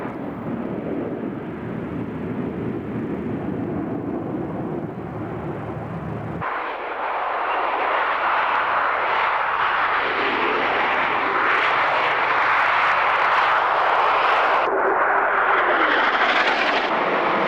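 A Harrier jump jet at the Mildenhall Air Fete 1997 air show, a loud jet roar that steps up sharply partway through into a harsh, wide-band blast, sustained and powerful.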